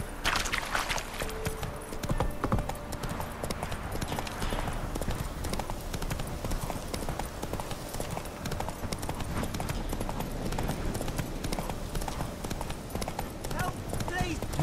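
Roach, Geralt's horse in The Witcher 3: Wild Hunt, gallops with rapid, steady hoofbeats throughout, overlaid by shouting voices and game music.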